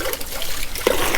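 Water splashes and pours steadily into a container, a close, loud running rush with a brief splatter near the end.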